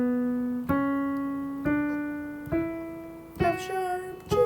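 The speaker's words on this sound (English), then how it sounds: "If I were to make this a major scale, it would sound like this." A major scale rises note by note to A, each tone struck and sustained in a slow, even ascent, ending with a brief cluster of notes, all close and alone.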